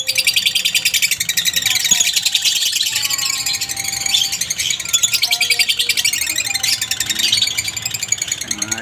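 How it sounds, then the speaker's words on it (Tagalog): Lutino and Cremino opaline parrots chirp and chatter densely in a noisy chorus, with sharp repeated tweets and some whistled calls over a low background hum, fairly close and loud. "magandang ibon po yan, mga Lutino"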